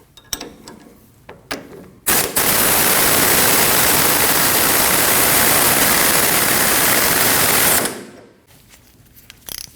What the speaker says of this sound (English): Now you want to tighten your bolt.